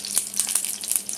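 Mustard seeds and curry leaves hit hot oil over a medium flame, giving a brief close crackle of sharp sizzling pops.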